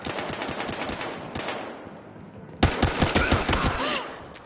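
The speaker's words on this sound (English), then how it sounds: "Who's shooting?" Rapid automatic gunfire in Battlefield Hardline, with a burst of sharp shots, a brief lull, then a louder, denser volley of close shots ringing out near the end, with no speech.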